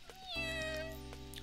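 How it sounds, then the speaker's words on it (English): A cat meowing in the Grisaia visual novel game, a single clear drawn-out meow, close and distinct over a soft steady musical background. "Oh, it's the cat, Kitty Meow."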